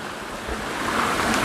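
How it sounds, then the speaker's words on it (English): Bromley Brook running beneath an old timber bridge on the Appalachian Trail, a steady, close rush of flowing water that swells slightly toward the end, with no voices. "the sign here says this is Bromley Brook"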